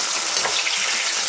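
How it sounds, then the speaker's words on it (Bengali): Tomato pieces fry lightly in hot oil, giving a steady, dense close sizzle with a soft crackle throughout and no voices. "টমেটো টুকরোগুলো একটু হালকা হালকা ভেজে নেব"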